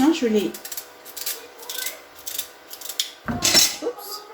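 Knife cutting sweet potatoes into rounds: scraping, rubbing cuts close by with a few light utensil clinks, and brief speech at the start and near the end.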